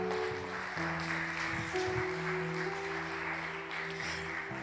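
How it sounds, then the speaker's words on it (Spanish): A church congregation claps together during a Spanish-language service, a steady sustained patter of hands held at low volume over a constant background hum. "denle un aplauso al Señor en esta mañana"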